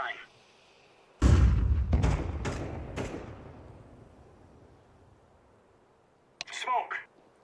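A flashbang grenade goes off in PUBG with a sudden loud bang and a few rumbling follow-up thumps that fade into a long decaying tail, and a voice briefly speaks near the end.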